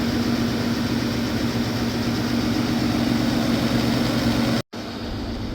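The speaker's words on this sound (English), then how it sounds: "The engine just started" A 1995 Toyota T100 pickup engine idles steadily with a deep, low rumble, broken by a brief dropout near the end before the idle continues.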